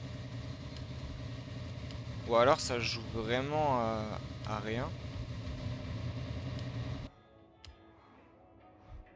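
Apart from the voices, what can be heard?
Lamborghini Sian Roadster engine in Forza Horizon video game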